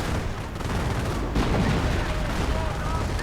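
Artillery fire in a WWII strategy game, a dense continuous roll of distant booms and gunfire rumbling throughout, with a slightly heavier burst midway.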